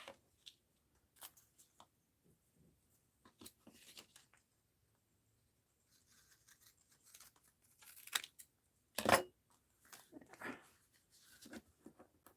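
A small slip of paper is handled and cut, giving quiet, scattered snips and rustles with a few louder crinkles and one sharp tear-like burst near the end.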